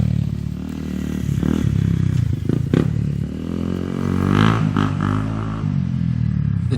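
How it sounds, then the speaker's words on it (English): Honda CRF 250L dirt bike riding off-road on bush trails, its engine note rising and falling close by with clattering and scraping from the rough ground. "The 250L is definitely a fun bike to off-road with, especially if you're an amateur rider like myself."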